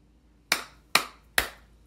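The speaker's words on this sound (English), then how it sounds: "Nice clapping." Three crisp, evenly spaced hand claps from children clapping like seals, each sharp and close with a quick decay, set against near silence.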